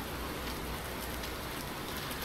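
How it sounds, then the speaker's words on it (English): Steady rain falls in the Farming Simulator 19 video game, an even, dense hiss that stays constant and close with no other sounds. "we got a pretty good rain coming down right now"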